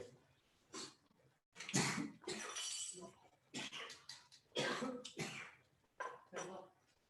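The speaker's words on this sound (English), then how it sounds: "Everyone is coughing here." Several harsh coughs burst out in quick succession, close and loud, with short pauses between fits and some throat clearing.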